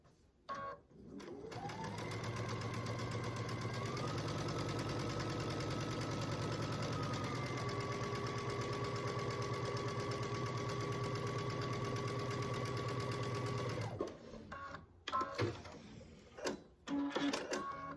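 A sewing machine stitches quilt blocks together in one long, steady motorized run of about twelve seconds, humming evenly with a slight shift in pitch partway through, then stopping and leaving a few quiet handling sounds.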